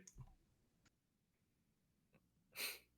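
A single sharp sneeze bursts out near the end, loud and close, after a few quiet clicks and soft background noise.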